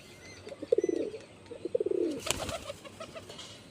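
Pigeons, including a light-eyed pigeon whose wing is stiff from old flying, give soft low cooing phrases in two bursts, close by, followed by faint rustling and brief flutter with light chirps in the background.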